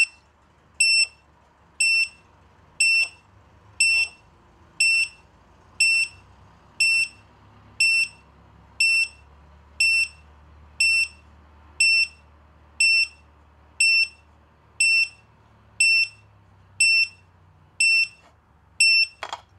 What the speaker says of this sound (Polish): Słyszymy, alarm jest głośny bardzo.